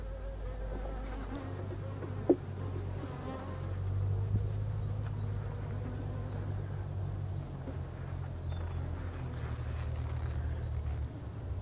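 Honeybees hum around an open beehive beside a second hive that has swarmed, a steady low drone close by with a single sharp click early on, no voices.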